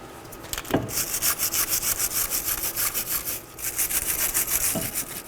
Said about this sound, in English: Now let's prep our mating surface on the knuckle. I'll be using a wire brush.